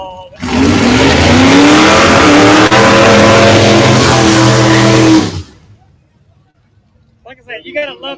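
Pro and junior late model race cars at Madera Speedway in Madera, California, roar past loudly in a sustained engine howl for about five seconds, then fade abruptly, followed by quiet and a bit of distant chatter.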